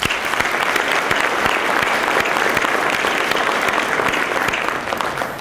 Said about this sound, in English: So let's have a round of applause for all of our speakers.